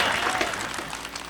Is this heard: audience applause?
yes